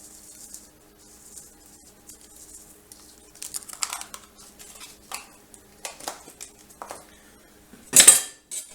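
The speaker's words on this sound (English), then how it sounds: "So give that a good stir" Marinara sauce stirred in a pot, with a spoon clinking and scraping against the metal in irregular bursts, close by, ending in one louder knock; no talk.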